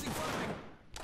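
A grenade thrown through a window in a first-person shooter video game, heard as a loud, dense burst of blast and gunfire noise that fills the first part, then drops briefly before another sharp crack near the end.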